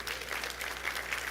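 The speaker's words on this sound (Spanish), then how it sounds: "tendremos que aplaudir a Jesús" Applause from a church congregation at an Adventist service, a steady wash of many hands clapping with no gaps and no voices over it.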